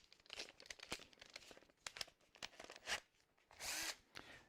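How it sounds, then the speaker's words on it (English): Short bursts of an 8mm brad point bit drilling into wood in a workshop, several separate whirring runs broken by crackly pauses, near and fairly quiet. "I'm going to use an 8mm drill"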